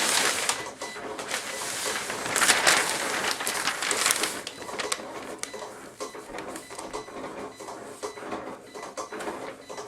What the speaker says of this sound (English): it shouldn't take that long for the Cricut to cut out that rhinestone template